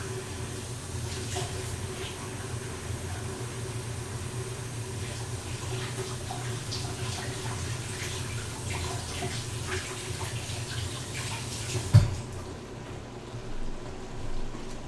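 A tap runs steadily for hand rinsing, a continuous close hiss of flowing water that stops abruptly near the end after a short knock.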